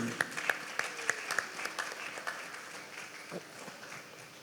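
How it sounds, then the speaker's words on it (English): An audience at a primary school graduation and achievers ceremony claps, the applause strongest at the start and gradually thinning out as a voice comes in near the end. "So a round of applause is befitting"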